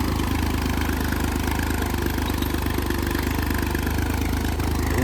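A 39 HP two-wheel-drive tractor engine works under load, pulling a cultivator through dry farm soil, a loud steady droning rumble with a low periodic throb and faint clatter, close and continuous, with no talking.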